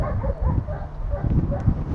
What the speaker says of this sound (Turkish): Sorun benim şu anda kucağımda. Köpek beni ısırıyor.